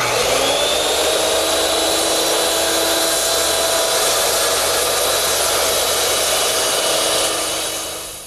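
A circular saw rips through wood for a Shaker step stool with a loud, steady, high whine held for several seconds under load. The whine trails off at the end as the blade spins down.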